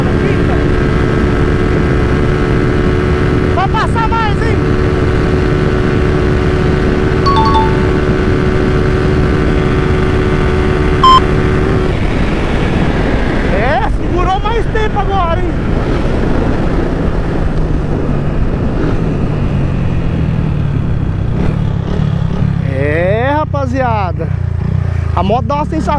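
Honda Fan 160 motorcycle with a 190 kit and an Athlon ECU, engine revving and holding gears in steady loud drone, pitch rising and falling through shifts, with wind noise and people talking over it.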